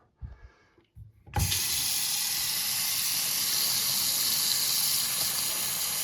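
Water runs steadily from a faucet into a slow-draining bathroom sink, a continuous close hiss and splash after a few brief knocks at the start.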